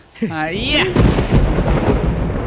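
A voiced rising sweep opens the clip, followed by a deep, rumbling roll of thunder that lingers loudly to the end.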